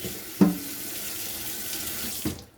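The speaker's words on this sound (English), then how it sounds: "I'm washing up all my dishes, drying up all my dishes" Kitchen tap water runs steadily into a sink while dishes are washed by hand, a continuous close hiss broken by a clunk near the start and another near the end, with no talking.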